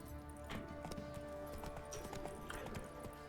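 Hooves of Roach, a horse in The Witcher 3, clip-clop in a steady walking rhythm, close and fairly quiet, over a low sustained music bed.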